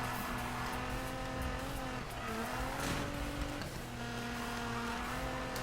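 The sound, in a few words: car driving and drifting in Need for Speed video game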